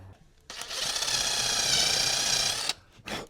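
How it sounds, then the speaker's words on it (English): A power drill pre-drills holes in a live-edge bench for assembly screws, running in one steady, loud burst of about two seconds, then stopping, with a short whir after. "we got the pre-drill going"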